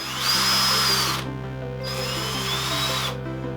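Two close, loud passes of a Morris Minor engine valve being lapped against its seat by a power tool, a whirring grinding with a rising whine.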